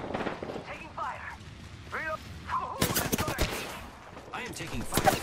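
Video game gunfire rattles in sharp bursts and single shots, moderately loud, mixed with a player's voice and other game sounds.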